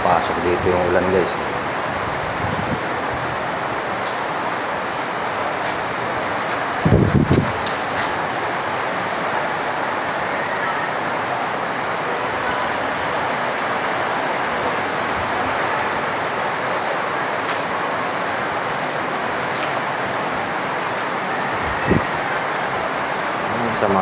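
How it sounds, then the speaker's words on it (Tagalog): Wind and rain roar steadily through bad weather, a dense broadband wash with a brief heavier gust or thump partway through, and faint voices beneath. "Pasok dito yung ulan guys."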